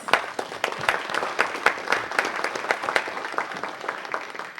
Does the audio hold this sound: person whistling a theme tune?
no